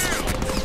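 Rapid gunfire in the Deadpool video game is aimed at the player, a dense, continuous burst of shots packed into a brief moment.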